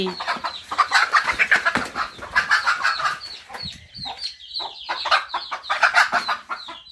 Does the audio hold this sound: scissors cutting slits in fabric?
no